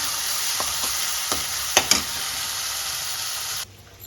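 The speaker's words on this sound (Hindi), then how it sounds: "यहाँ पे ये मसाला मैं भूनूंगी" Loud, continuous sizzling of spice paste frying in a hot pan, with a few scraping stir strokes, until the hiss abruptly drops away near the end.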